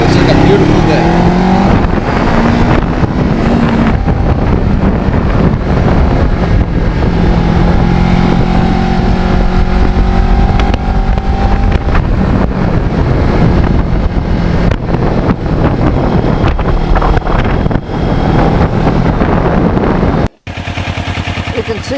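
A Kawasaki Ninja 650R motorcycle rides along an open road in fall, its engine droning loudly and steadily under heavy wind buffeting for about twenty seconds before a sudden cutoff near the end.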